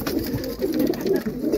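Pigeons in a wire cage setup kept for ten to fifteen birds, including royal teddy pigeons, coo continuously nearby, with overlapping low rolling calls throughout.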